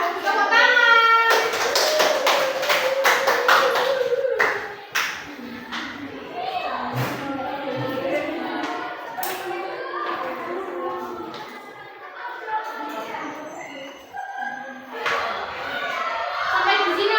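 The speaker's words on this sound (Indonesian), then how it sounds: "Tepuk tangan." Children in a primary classroom clap their hands on a teacher's cue, a quick burst of sharp rhythmic claps at the start followed by scattered taps and children's voices chattering.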